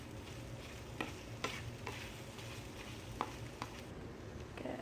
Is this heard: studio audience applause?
no